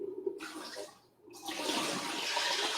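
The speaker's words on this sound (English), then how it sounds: "So I'll just kind of drain this water out" Water drains from a bowl of soaked sprouts with a splashy pour, a brief pause, then a steady close rushing gush that continues to the end.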